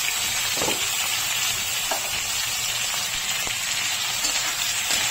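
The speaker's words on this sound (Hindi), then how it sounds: "तेल गरम होने के बाद हम इसमें ये मसालों को डाल देंगे। फिर इसी में ये टमाटर, हरी मिर्च, जितना कुछ लिया है मैंने सब डाल दिया।" Spices, tomatoes and green chillies sizzle steadily in hot oil for a Chatpati Masala Bhindi, a dense, even hiss of frying with occasional soft pops and stirring scrapes, close and continuous.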